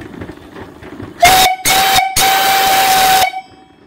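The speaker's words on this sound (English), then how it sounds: "I'll blow the whistle." Loud steam whistle on a trailer-mounted steam engine and boiler, blown in three blasts: a short one, a brief second, then a long sustained tone of about a second, heard close over a faint background hiss.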